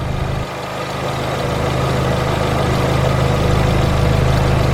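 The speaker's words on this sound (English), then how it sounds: "And it's working. The AC compressor is working." A 2002 Volkswagen Beetle 2.0 engine idles close by with its AC compressor running, giving a steady low droning hum that rises slightly after a brief dip near the start.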